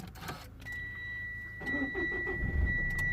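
A keyless Mitsubishi ASX 1.8 Di-D with an engine oil level warning fault is started. Dashboard chimes and a steady tone come first, then the starter cranks and the diesel engine catches into a low idle, heard close up.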